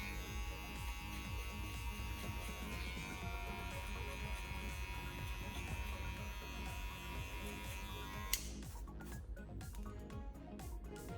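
Electric hair clippers buzz steadily while cutting hair over a comb, a close, continuous motor drone with small shifts in pitch, switching to a brighter, choppier cutting sound near the end.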